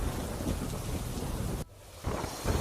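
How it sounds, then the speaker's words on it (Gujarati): Heavy monsoon rain pours down in Gir Somnath as a dense, loud roar of rain on surfaces. It breaks off abruptly for a moment, then the downpour resumes. "ગીર સોમનાથમાં સતત બીજા દિવસે આ વરસાદ જોવા મળી રહ્યો છે"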